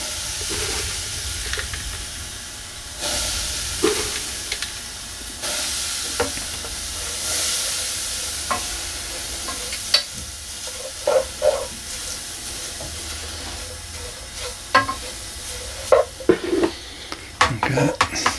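Sawdust is mixed into a mixture for a homemade fire starter, giving a hissing, sizzling bed of sound broken by repeated scraping and clicking stirring strokes, close and fairly loud without talk.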